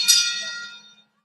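One bright metallic clang of a boxing ring bell at a welterweight bout rings out loudly and decays over about a second, with no talk over it.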